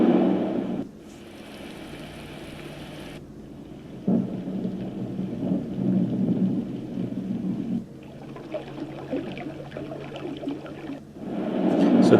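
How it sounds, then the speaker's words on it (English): A HoMedics Deep Sleep sound machine plays its water sounds, a muffled rushing wash like rain and rumbling surf that swells, cuts out and returns in sections, steady and moderately loud with no voices. "So there's your water sounds."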